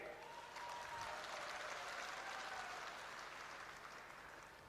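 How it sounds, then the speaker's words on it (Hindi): A crowd applauds with steady, dense clapping that holds for several seconds and then gradually fades. "अभी ताली बजाई है"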